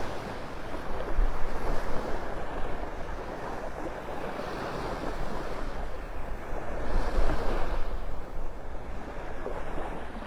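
Surf rolls onto the sand at Vanderbilt Beach in North Naples, Florida, a steady wash of breaking waves with gentle swells rising and falling, mixed with some wind rumble on the microphone and no voices.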